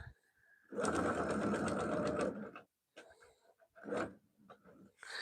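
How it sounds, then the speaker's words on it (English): A sewing machine stitches quilt blocks together in one steady, close run of about two seconds, followed by a few short stitching bursts and quiet handling sounds. "I'm using my machine to sew it all together"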